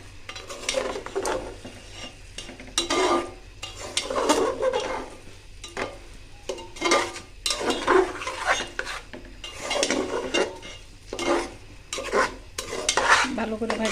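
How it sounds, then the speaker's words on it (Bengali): Rice with a little spice is stirred and fried in a pan: repeated scraping spoon strokes and clinks over a soft, steady sizzle, close by and without talk. "দিয়ে ভালো করে বাইজা নিতেছি"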